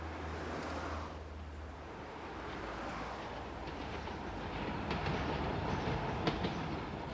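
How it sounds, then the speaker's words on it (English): A Newcastle Metro train, Tyneside's new local railway, runs on its rails with a steady rolling rumble and faint clickety-clack that swell slightly toward the end, heard alone without speech. "This is the Metro, Newcastle's gleaming new local railway system"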